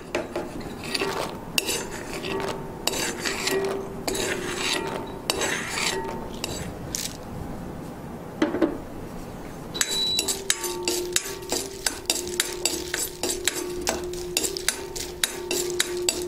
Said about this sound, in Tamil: ஸ்டவ் ஆஃப் பண்ணிவிட்டு அந்த சட்டியில் இருக்கிற சூட்லேயே தான் ஏலக்காய் வறுவிட்டுருக்கு